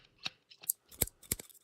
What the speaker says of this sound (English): I'm guessing this is a sample of someone with scissors.